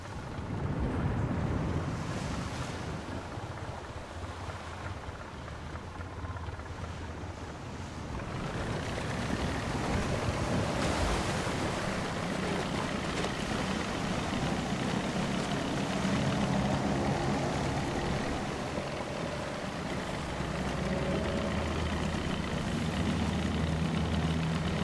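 Boat engine idling and pushing across open sea in the video game Sea of Solitude, a steady low motor drone blended with washing waves and wind rush, continuous and fairly loud throughout with no talking.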